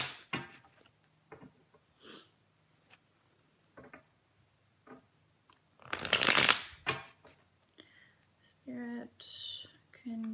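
Tarot cards shuffled by hand during a reading, giving a loud dense riffling burst near the middle amid scattered soft taps and whispery handling sounds, with brief quiet voice sounds near the end.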